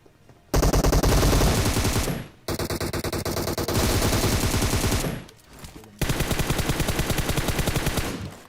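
Rapid automatic gunfire in BGMI (PUBG Mobile) fires in three long, loud close-range bursts separated by short gaps of near silence.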